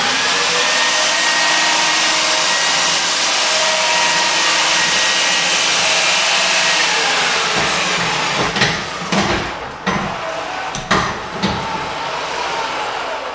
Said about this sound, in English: We just change the direction of the Pullzall, and back down we go.